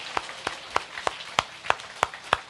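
A church congregation applauds together in encouragement, a sparse, faint clapping of a few hands with sharp individual claps landing at a steady rhythm, no voices over it.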